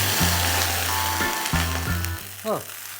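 Meat sizzles in a pan of hot rice bran oil, a loud close crackling hiss that runs throughout. Brief tonal hums and a short voiced sound come in over it.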